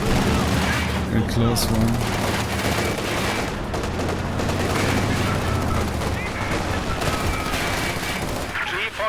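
Gunfire during a tournament match in a video game: rapid bursts and single shots crack repeatedly, mixed with booms, while a player's voice talks over the steady barrage.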